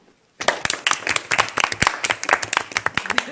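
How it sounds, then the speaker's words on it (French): A television studio audience bursts into clapping after a moment of silence, a dense run of sharp individual claps that holds steady for the rest of the clip. "Moi aussi j'applaudis."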